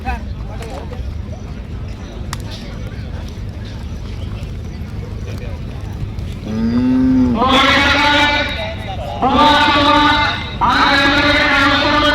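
After a stretch of murmuring background noise at a bullock gathering ground, bulls let out three loud, drawn-out moos, one after another, close by.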